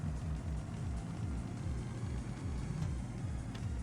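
Locomotive wheels slipping on wet rails in the Derail Valley train simulator, a DM3 engine producing a low, steady rhythmic churning rumble, loud and continuous with no voices.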